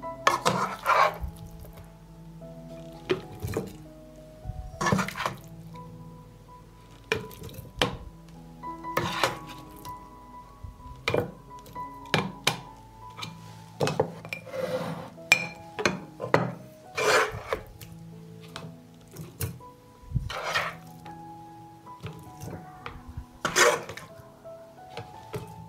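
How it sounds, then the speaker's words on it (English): Meat is packed into clean glass jars, a long run of irregular clinks, knocks and rubbing scrapes of utensil and glass, close and moderately loud, with no speech. "I will fill the jars with meat."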